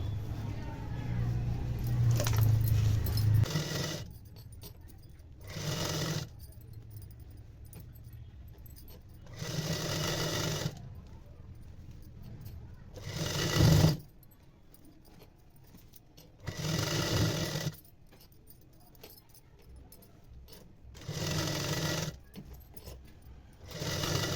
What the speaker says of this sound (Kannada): ಈ ರೀತಿ ಸ್ಲೀವ್ ಕಡೆಗೂ ಮೊದಲು ಸ್ಟಿಚ್ ಹಾಕೋಬೇಕು